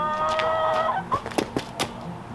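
Backyard chickens on a small flower farm cluck and squawk up close, a drawn-out call followed by several short, choppy clucks.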